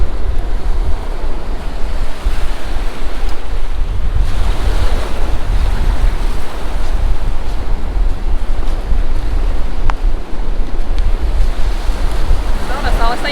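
On a windy beach where a boat sits in the water, strong wind buffets the microphone over constant crashing surf, a loud, unbroken roar throughout.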